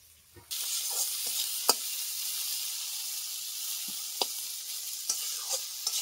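Vegetables and tomato fry in a pan with a steady bright sizzle, broken by a few sharp clinks and scrapes of stirring; close and continuous, with no talking.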